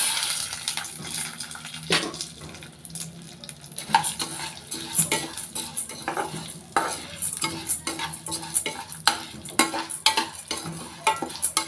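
Chana dal and urad dal roasting in a little oil in a pan for curry leaf powder, with a spatula scraping and stirring in repeated strokes over a soft, steady sizzle and no talking.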